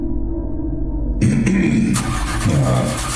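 A low synthetic engine hum swells as a second, brighter roar kicks in, building into a layered whirring drone; steady and loud, no talking. Spaceship engines starting in Warframe.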